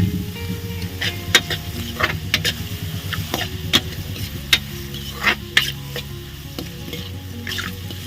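Tempering spices with turmeric and salt sizzling in a pan for a banana curry, a steady fry under repeated sharp clinks and scrapes of a spoon against the pan.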